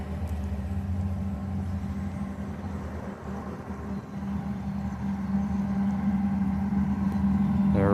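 Freight train locomotives idle nearby at a rail siding, screened by trees, giving a steady low diesel rumble with a constant hum that swells slightly toward the end.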